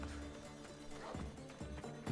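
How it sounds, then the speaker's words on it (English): Wolves in an Assassin's Creed video game barking and yipping in short repeated bursts, several yelps over a steady game soundtrack hum, fairly close. "I guess the answer was they're fluffy wolves."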